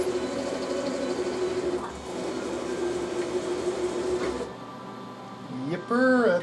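Homemade CNC tap holder with clutch running at 400 RPM, a steady machine whir with a faint tonal hum that carries on for over four seconds, then drops off, followed by a brief rising and falling squeal near the end.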